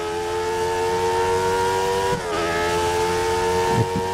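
A Formula 1 car drives a lap of Estoril in the racing game F1 2013. Its engine drones steadily and loud close by, dipping briefly in pitch halfway through, with a faint thump near the end.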